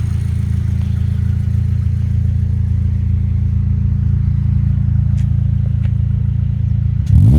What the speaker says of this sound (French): Tu peux nous donner des petits coups de gaz pour qu'on entende le bruit?